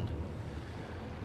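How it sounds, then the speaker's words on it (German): Boiling-water skill effect engulfing an enemy underwater in Guild Wars 2: a dense, steady bubbling and churning rush that stays loud and even throughout, with no voices. "Lässt das Wasser um euren Gegner kochen."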